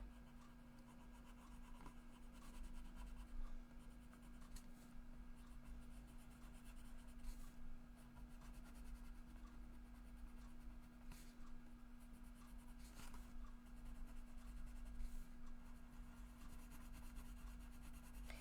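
Steady scratchy strokes of a watercolor pencil coloring on creased paper, continuous and close, with a faint electrical hum underneath and no talking.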